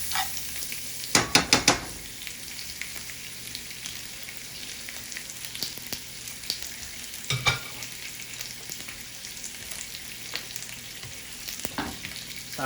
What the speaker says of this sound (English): Get the butter nice and melted in the pan.